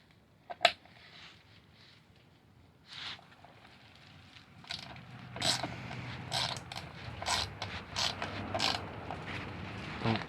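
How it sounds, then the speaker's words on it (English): Bolts being tightened by hand while fitting a DK Customs chin spoiler air dam on a vehicle: sparse ratcheting clicks and metallic rattles, one sharp knock early, then busier bursts of turning and scraping close by. "Hold it there while you're tightening it down."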